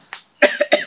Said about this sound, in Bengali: আরে কাশিস